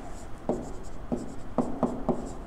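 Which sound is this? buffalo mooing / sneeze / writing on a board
writing on a board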